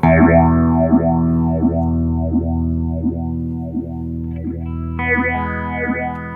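A droning, distorted guitar-like tone through a Spaceman Explorer phaser pedal on a triangle wave, sweeping up and down in an even, repeating rhythm, roughly once every second.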